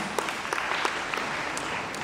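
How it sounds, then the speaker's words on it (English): Quiet, fairly distant clapping from an audience at a jewellery design awards event, a short stretch of scattered applause with individual claps standing out. "So give yourselves a round of applause."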